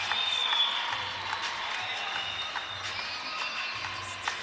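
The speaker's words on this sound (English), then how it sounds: "So you hear the crowd roaring just before AJ Snowman walks out." A large crowd at a live MMA fight night roars and cheers steadily as a debutant fighter walks out. The broad, sustained arena noise is broken by scattered louder shouts and claps.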